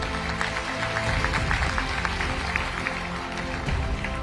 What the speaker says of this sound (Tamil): அவர்களுக்கு நம்ம அனைவரும் சார்பாக பாராட்டுகளை கைத்தட்டுகளை தெரிவிப்போம்